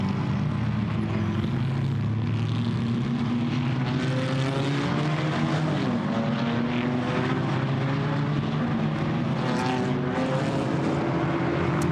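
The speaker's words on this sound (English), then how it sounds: "So really coming good, these big rumbling Camaros." Big, rumbling Chevrolet Camaro GT4 race cars run at the Misano World Circuit, a continuous loud engine drone with shifting, rising and falling harmonic tones throughout.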